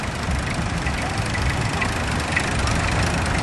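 A vintage tractor engine idles at a country vintage show, a steady low rumble that carries on at an even level for the whole stretch, with no voices over it.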